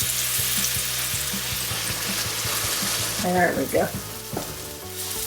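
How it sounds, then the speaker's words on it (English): Thin fried cornbread batter sizzles steadily in hot oil in a soul food kitchen, a bright broadband hiss that holds throughout, with a few spoon clinks near the end and a brief spoken phrase. "This is the deal with the fried cornbread"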